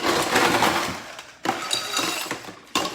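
Ice being tipped into a glass while making a rum cocktail, heard as three loud crunchy rattling bursts of cubes clattering and clinking against the glass, close and with no talking.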